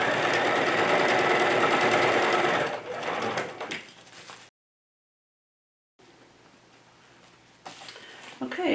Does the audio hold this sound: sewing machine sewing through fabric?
yes